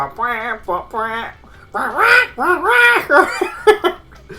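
A person's voice imitates a duck, producing a run of nasal, buzzy quacks in short bursts, some paired, varying in pitch and loudness.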